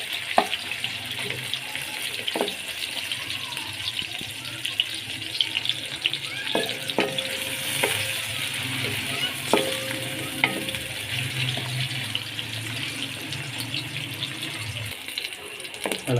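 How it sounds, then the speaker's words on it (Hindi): Onions frying and browning in a pan while chicken pulao is being cooked, a steady sizzle with stirring scrapes and occasional clinks running throughout, moderately close. "सबसे पहले आपने प्याज को ब्राउन करना है।"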